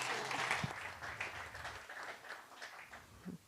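Audience applause at an evening community pub talk event, steady dense clapping from a seated crowd that gradually thins toward the end, with no voices over it.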